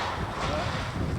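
Wind buffets the microphone aboard a sailboat catching strong wind, a steady broadband rush with some low gusting rumble that stays loud and continuous throughout the short stretch.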